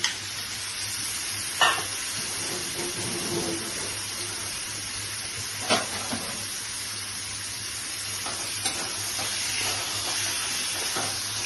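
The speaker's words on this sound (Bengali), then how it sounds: "মটনগুলি দিয়ে দিচ্ছি, এভাবে মটন দিয়ে দিলাম।" Mutton pieces sizzle in hot oil in a pan, a steady close hiss with occasional sharper clicks and scrapes, no voices.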